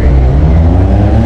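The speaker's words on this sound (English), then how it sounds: "It's like, hello, look at me, I've got a loud car" A loud car drives past on a Blackpool street, its engine a heavy, steady low roar filling the short moment close by, with no talk over it.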